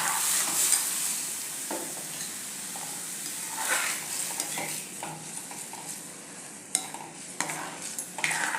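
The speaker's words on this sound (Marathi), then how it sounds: "सुरुवातीला मी पाण्यामध्ये हे तांदूळ व्यवस्थित शिजवून घेणार आहे" Rice simmers in water in a pan for jaggery kheer while a spoon stirs it, giving scattered scrapes and taps over a quiet bubbling hiss, close by and without speech.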